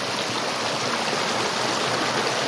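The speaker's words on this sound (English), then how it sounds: "We are running the sluice box today." Water rushes steadily through a sluice box set in a creek in eastern Oregon during gold prospecting, a continuous broadband gush close by with no voices.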